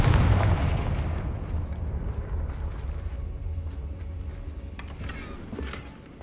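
Confringo spell explosions in the video game Hogwarts Legacy boom heavily up front, then rumble and crackle through a long decaying tail with faint later pops.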